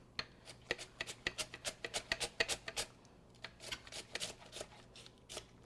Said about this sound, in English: I'm just going to shave this paper thin right onto this beautiful watermelon